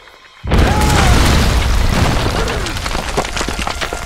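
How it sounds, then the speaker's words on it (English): A grenade launcher fires in the video game Tomb Raider 2013: a sudden heavy boom that breaks a quiet moment and rolls into a loud, sustained rumbling blast with crackling debris, close and dominant. "Okay. Grenade launcher. Very useful."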